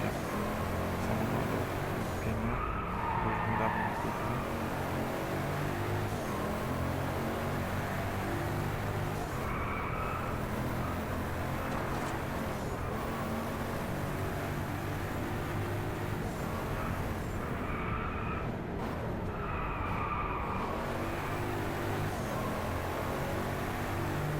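A Ferrari FXX Evoluzione or Pagani Huayra drives in DRIVECLUB with a constant loud engine roar, now and then rising into screeching tyre-skid sweeps as it slides through corners.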